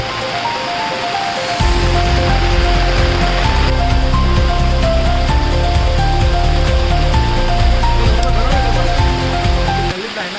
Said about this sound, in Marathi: कालपासून एकदम जबरदस्त पाऊस आहे